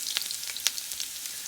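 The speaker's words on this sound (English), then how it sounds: "that's the sizzling sound that I like to hear when I'm chunking dal" Chopped garlic and cumin seeds sizzling in hot oil for dal, a bright crackling spatter with scattered sharp pops, close and alone.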